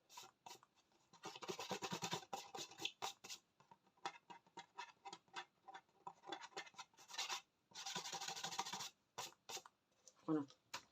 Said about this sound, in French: Je vais essayer de gommer avec ma gomme magique.